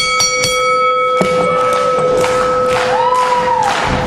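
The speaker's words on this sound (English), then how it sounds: "ring the bell" A bell rung to open a wrestling main event, several sharp clangs with ringing tones over a lively arena ambience, close and loud.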